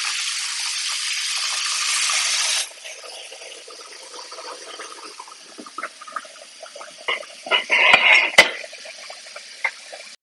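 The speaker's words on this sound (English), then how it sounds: "Run cold water." Cold water from a kitchen tap gushes steadily over freshly cooked pasta in a colander for about two and a half seconds, then cuts to quieter splashing, dripping and clattering as the pasta drains.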